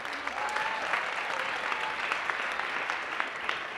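A seated audience at a talk on democracy applauds steadily, a soft, even patter of many hands clapping at a moderate distance, continuous for a few seconds.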